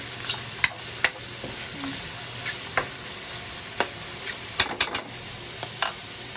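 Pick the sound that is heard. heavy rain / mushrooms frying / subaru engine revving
mushrooms frying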